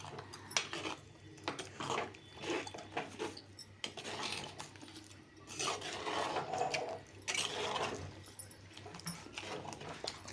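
Gongura chicken curry is stirred in a pot, the spoon scraping and clattering steadily against the metal sides at close range over a low background hum.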